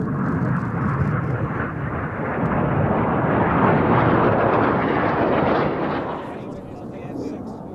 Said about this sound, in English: get your cameras ready for the synchro pair and their first opposition pass maneuver